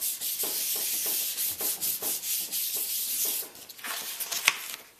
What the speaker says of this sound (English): So I'm lifting that with the brayer